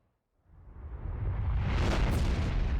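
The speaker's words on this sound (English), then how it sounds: "Hell of a fireworks show." A fireworks explosion in the video game Ace Combat 5, a deep rumbling boom that swells quickly from silence into a sustained, roaring blast with crackling texture.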